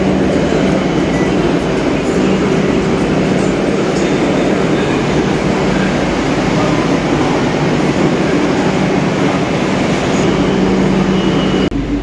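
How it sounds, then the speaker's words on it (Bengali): A Kolkata metro train pulls into Dum Dum station, a loud, continuous rumble and rolling roar of the carriages close by, with a steady low hum throughout and no talking. "আর ট্রেন ফাইনালি চলে এসেছে দেখতে পাচ্ছ"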